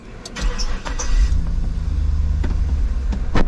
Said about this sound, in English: I'm going to go ahead and crank the truck up